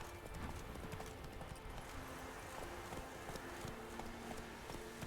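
The horse Roach in The Witcher 3: Wild Hunt gallops with steady, rapid clip-clop hoofbeats under constant ambient game noise, fairly quiet throughout.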